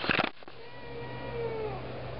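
A cat whines and meows insistently around feeding time indoors, starting with a short loud burst followed by a long drawn-out, wavering whine over a steady low hum.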